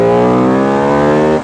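A Buell Super Cruiser motorcycle engine pulls hard under acceleration, a loud close harmonic roar that climbs steadily in pitch before cutting off abruptly.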